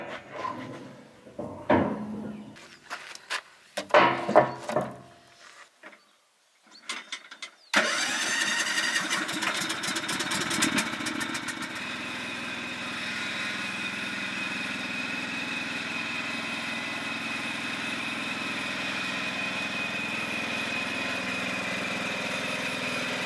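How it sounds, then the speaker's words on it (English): A brand-new ride-on lawnmower is started after some knocks and clunks, its engine catching with a burst of revving, then settling into a steady, even idle that drones on for more than ten seconds, close by with no talk. "brought myself a ride-on lawnmower"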